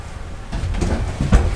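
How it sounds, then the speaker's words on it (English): Medicine cabinet door in an RV bathroom being pulled open, a short close clunk and rattle of the cabinet door with a couple of knocks as it swings. "pull that door open there and show you the medicine cabinets"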